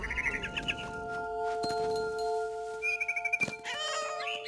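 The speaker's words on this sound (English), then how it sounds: "Then I heard chirping outside my window. It was a barn swallow going back to her nest." A barn swallow in the video game What Remains of Edith Finch gives quick bright chirps and twittering bursts close by, set over a steady tonal game ambience, with no talking.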